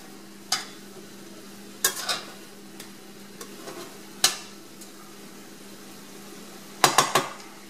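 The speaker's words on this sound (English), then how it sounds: "now I'm adding my 2 Vidalia onions to the ground turkey because I want to make sure that my onions are sauteed." Vidalia onions and ground turkey cook in a pan with a soft, steady sizzle, broken by a few sharp clacks of a utensil stirring and scraping, nearby, with no talking.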